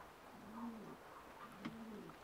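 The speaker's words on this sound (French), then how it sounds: "c'est, une race de pigeons qu'on a ramenée de France. C'est le pigeon Hubel." Hubel pigeons, a heavy French breed over 400 grams, coo softly in low, throaty bursts, a couple of calls close by against a quiet background on a farm.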